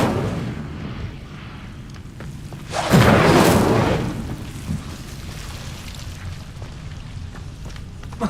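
The Incendio fire spell from Hogwarts Legacy bursts once with a loud, roaring whoosh that swells and fades over about a second, standing alone against quiet ambient sound with a few faint clicks.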